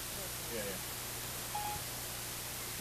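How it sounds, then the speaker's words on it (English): Phone dialing tones while calling McDonald's: two short, faint beeps about a second apart over a steady low hum and hiss. "You're calling McDonald's on your phone."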